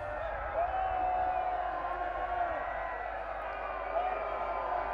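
A crowd at a senior men's Australian football grand final shouts and cheers in a continuous rowdy roar, with individual yells rising over the din and a commentator talking over it.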